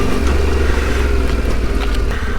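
A Yamaha adventure motorcycle rides off-road with its front ABS switched off, its engine droning steadily and loudly at a constant pitch throughout.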